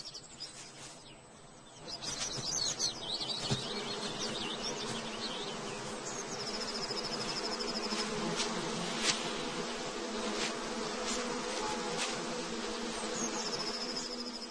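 Bees and wasps buzz in a summer forest, a continuous close droning hum with some higher whining passes, steady throughout with no talking.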